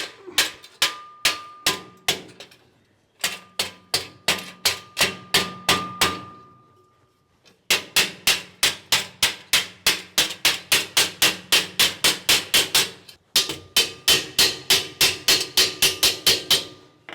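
An expansion bolt is hammered into a drilled hole while a folding table bracket is fitted, with long runs of sharp metallic hammer strikes in quick steady rhythm, broken by short pauses, close and loud.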